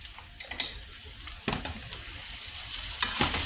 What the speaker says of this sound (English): What we're looking for here is a good sear on these potatoes.